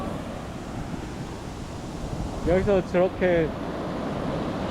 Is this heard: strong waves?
yes